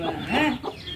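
Chickens clucking close by in a farmyard with newly hatched brown chicks, giving short loud clucks and calls in a quick series.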